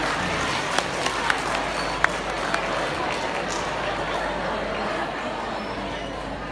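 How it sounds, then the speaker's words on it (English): An audience applauds contest participants, a moderate, steady wash of clapping and crowd murmur with a few sharper individual claps standing out. "Big round of applause, please."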